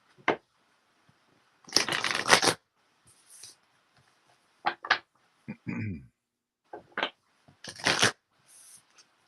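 Several short bursts of card shuffling, quick riffles separated by pauses, close up with a quiet voice speaking in between.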